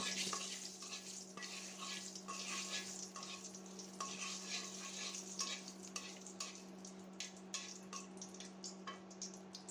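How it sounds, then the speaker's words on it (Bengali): Three dried red chilies frying in mustard oil in a wok, a steady close sizzle with crackling bursts and a constant low hum beneath, no voices. "তিনটা শুকনো মরিচ দিয়েছি সরিষার তেল মরিচগুলো কালো কালো করে ভেজে দিব"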